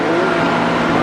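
1987 Carrier Round One two-ton central air conditioner running, a loud, steady close-up roar of fan and airflow with a constant low hum and no talking.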